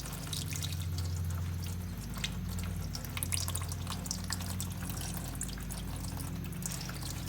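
Hydraulic oil draining from a zero turn mower during a hydro oil change, heard as a continuous trickling, dripping stream over a low steady hum, with no talking.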